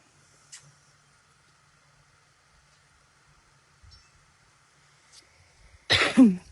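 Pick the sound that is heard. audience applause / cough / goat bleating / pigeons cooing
cough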